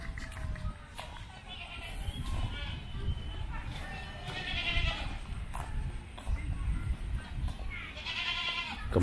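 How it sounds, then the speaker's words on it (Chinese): Goats or sheep bleating at a countryside club farm area in Kam Tin, Hong Kong, heard as intermittent calls over a busy outdoor background, with people talking nearby. "又有羊叫啦"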